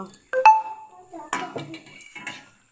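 A metal kadai used for frying is handled, giving a few sharp clanks and ringing metallic knocks in quick bursts, with a voice talking in between.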